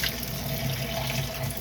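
Steady rush of tap water running into a sink while dishes are rinsed, a close, continuous splashing stream with no talk.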